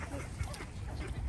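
Ducks and geese quacking and honking together in a steady, busy chorus close by, with no talking.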